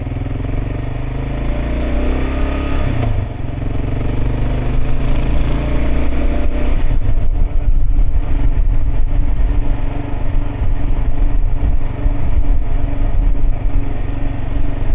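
A motorcycle engine runs steadily near a border crossing, a loud, continuous close-up drone that grows rougher and louder partway through, with no talking.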